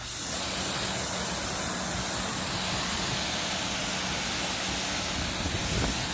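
A Greenworks electric pressure washer sprays continuously, a loud, steady rushing hiss of water jetting without pause.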